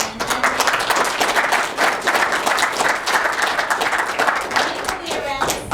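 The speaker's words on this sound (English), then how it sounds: "So a big round of applause to Justin" Audience at a conference session clapping for a speaker named Justin, a dense, steady round of many hands, close and continuous, tapering slightly at the end.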